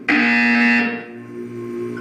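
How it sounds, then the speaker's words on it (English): A loud electronic buzzer in the video game Portal 2 sounds alone, a harsh sustained tone lasting under a second before cutting off into a low lingering hum. "You will hear a buzzer."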